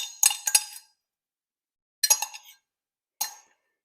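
Yeast nutrient stirred into cooled, tepid elderflower wine, giving three short bursts of bright clinking against a container, the first two quick strikes together, then longer gaps of silence between the later ones.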